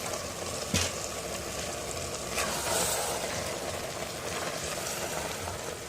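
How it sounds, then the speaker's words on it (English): Mixed vegetables in a pan are stirred slowly, giving a soft continuous frying hiss with a few faint scraping clicks, fairly quiet and close, no voices. "Now slowly mix everything well."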